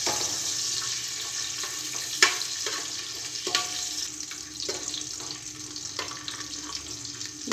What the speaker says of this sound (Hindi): घी हमारा मेल्ट हो गया है तो हम डाल देंगे बादाम और इन्हें हम फ्राई कर लेंगे